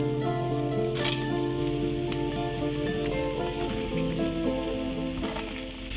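Onion, ginger and garlic sizzle in ghee in a pan over an outdoor cooking fire, a steady close crackling hiss with occasional stirring scrapes and no voices.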